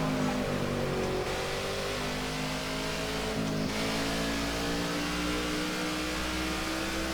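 NASCAR stock car engines roar continuously in the NASCAR '15 game, with a loud close revving drone and shifting pitch as the pack races, no talking.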